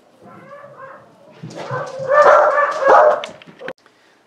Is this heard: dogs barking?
yes